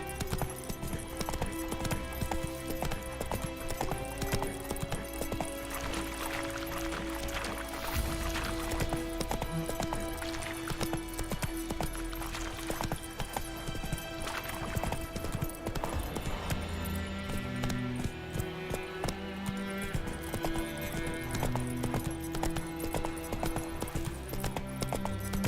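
Roach, the horse in Witcher 3, gallops in a fast, rhythmic clip-clop of hooves that carries on throughout, over layered game music and ambient sound.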